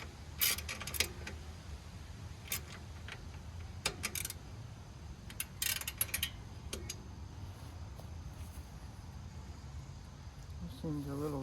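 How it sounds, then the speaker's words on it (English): A wrench tightens a bolt on a men's cruiser bicycle, giving sparse metallic clicks and ratcheting ticks over a low background hum, with a brief creaking burst at the end. "Torque it down a little bit with the wrench."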